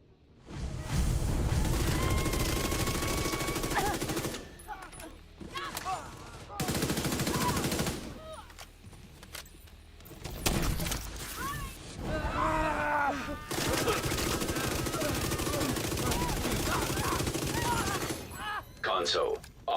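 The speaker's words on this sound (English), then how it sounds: "Just shoot everywhere." Rapid gunfire from a shooter video game, with dense bursts of shots and booms firing in all directions at hostile combatants. The shooting comes in loud stretches broken by brief pauses, and it continues for the whole stretch.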